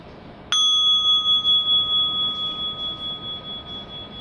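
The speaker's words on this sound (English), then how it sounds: "So just invite this bell." A meditation bell struck once at a Buddhist talk gives a sharp strike followed by a clear, sustained ring that slowly fades with a gentle pulsing shimmer, alone in a quiet room.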